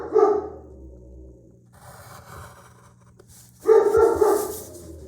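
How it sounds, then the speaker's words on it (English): A dog barks in the background of a room, giving two distinct loud barks separated by a few seconds of quieter scraping and low whimpering sounds. "Maybe you can hear my dog in the background"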